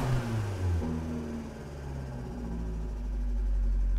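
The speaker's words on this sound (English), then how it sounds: "Multi-air engines are pretty loud just because of how they operate" A Fiat 500 Abarth MultiAir engine with 57,000 miles revs up from idle, its low hum climbing in pitch and growing steadily louder over a few seconds.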